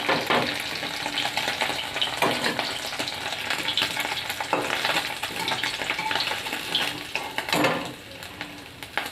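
Tengra fish sizzle and crackle steadily in hot oil in a pan, a loud, dense spatter with occasional sharper pops and stirring scrapes, no voices.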